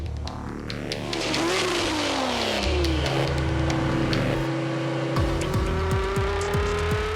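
Supercars in a Dubai street race roar and rev hard as they accelerate, engine pitch sweeping upward through gear changes, loud and close with continuous mechanical drone and no talk.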